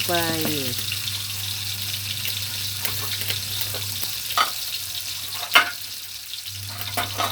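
Small freshwater shrimp stir-fried with holy basil and chili in a hot pan, a steady loud sizzle with scraping stirs and occasional sharp clanks of a utensil, close by under a low hum.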